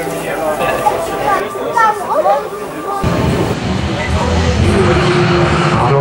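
Rallycross Super Cars 1600 launch from the start line at Sedlčany, a sudden roar of engines bursting in midway after an excited commentator's voice, then a sustained loud rumble of cars pulling away.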